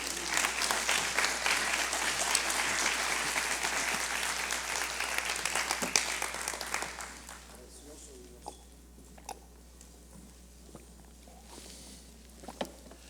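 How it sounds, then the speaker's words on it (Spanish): A church congregation applauds loudly and steadily for about seven seconds, then the clapping dies away into a quiet room with a few scattered claps and small knocks. "Dale un aplauso a Jesucristo."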